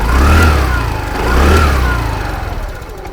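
A TVS Jupiter BS6 scooter engine runs close and loud after a throttle body setting, holding a steady idle with two gentle swells in revs.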